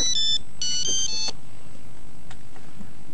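A mobile phone rings with bright, melodic electronic tone bursts, loud and close, then stops abruptly, leaving quiet room tone with faint knocks.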